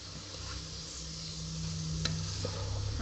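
Curry of cauliflower and meat being stirred and mixed in a pot, a steady soft scraping and sizzling close up with one sharp utensil tap midway, no voices.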